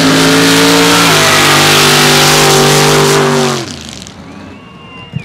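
Side-by-side vehicles at a mud drag race roar loudly at close range, a sustained engine drone with a steady pitch step before dying away into distant fading engine noise.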